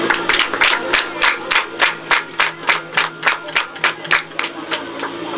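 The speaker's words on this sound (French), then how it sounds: "que je vous prie d'applaudir" Rhythmic unison clapping from an audience at a community hangar donation ceremony in Dekin, steady beats about every third of a second, fairly loud and close, with no talk over it.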